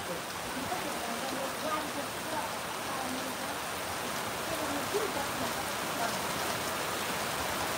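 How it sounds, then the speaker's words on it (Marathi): Steady rain falls in a rural area, a dense, even hiss of drops on surfaces that holds at moderate loudness throughout. "आमच्या भागात पाऊस चालू"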